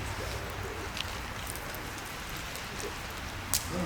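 Rain falls outdoors during a burning ceremony, a steady soft hiss of drops with a couple of faint knocks, fairly quiet and with no talking.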